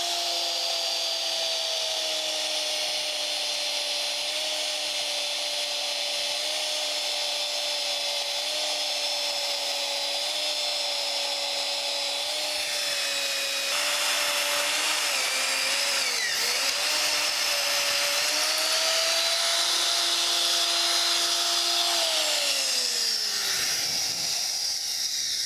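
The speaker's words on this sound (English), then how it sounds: "I'm just going to have to hold it here while I'm drilling" Electric drill mounted on an old magnetic drill base, boring steadily for about twenty seconds with a high whining motor tone that shifts pitch slightly and winds down at the end, close and without talk.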